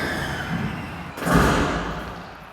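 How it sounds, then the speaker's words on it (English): A cage door slams shut with one heavy, booming thud that rises out of a steady roar of background noise before slowly fading. "The cage door has been shut"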